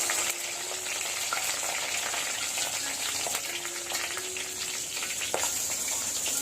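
Fenugreek with red and green chillies sizzles in hot oil for a Chettinad prawn gravy, a steady bright crackle with scattered pops and faint stirring, heard close with no talk.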